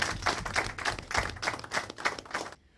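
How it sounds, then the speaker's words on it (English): A few people clapping for Hall of Fame inductees at a bank ceremony, close, rhythmic claps in quick bursts that stop abruptly at the end. "Let's give them another round of applause, please."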